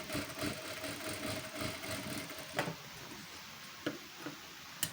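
A sewing machine stitching a seam on a blouse neckline and sleeve, its motor giving a faint, steady whirring hum for about two and a half seconds before stopping, leaving a few soft clicks in a quiet room.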